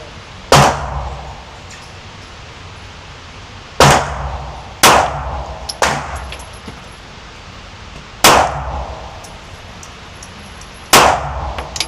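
Single pistol shots from a Ruger LCP MAX and a Smith & Wesson Bodyguard 2.0 fired at a range, six sharp loud cracks spaced a few seconds apart, each followed by a short echoing tail.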